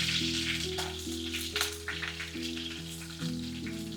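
Garlic and asafoetida fry in hot oil, giving a soft, steady sizzle that sits beneath louder background music.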